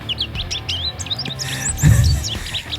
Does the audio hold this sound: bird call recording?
yes